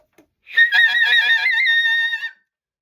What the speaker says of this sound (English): You don't want to bite the reed because that'll sound like this